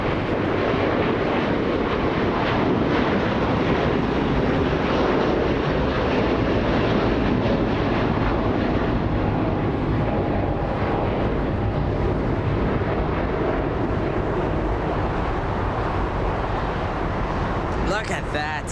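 A Qatar Airways A350 takes off from LAX with a loud, sustained jet engine roar that holds steady for the whole stretch, with people talking over it.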